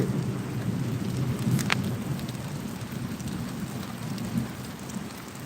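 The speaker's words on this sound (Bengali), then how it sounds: "খুব নীরবভাবে খুব আস্তে আস্তে বৃষ্টি হচ্ছে এবং সহনশীল বৃষ্টি তবে আকাশে বেশ গর্জন রয়েছে" Gentle early-morning rain in the Phulpur area falling steadily on surfaces, a soft continuous patter with low thunder rumbling through it and one brief sharp crackle, heard alone without voices.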